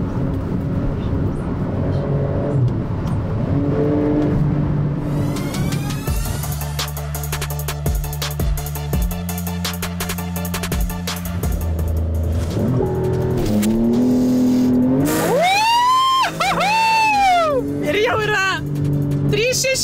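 A Porsche Carrera GTS engine roars and revs hard, rising and falling in pitch as it accelerates nearby, with excited voices talking over it at times.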